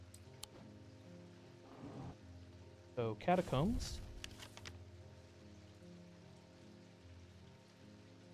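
Steady rain patters in a dark catacomb setting in a video game, a constant soft hiss running throughout while people talk briefly over it.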